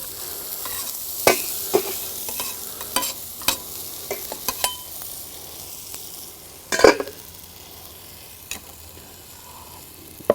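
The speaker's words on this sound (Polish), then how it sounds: "Mięso leciutko podsmażamy, żeby lekko surową strukturę zachowało" Meat for a Philly cheesesteak frying lightly in a pan, a steady soft sizzle broken by sharp clacks and scrapes of stirring, with one louder clatter midway.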